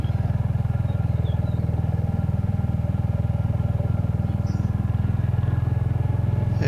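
A motorcycle engine drones steadily and close up during a ride along quiet country lanes, with a constant low throbbing rumble and faint wind noise and no pauses in the engine.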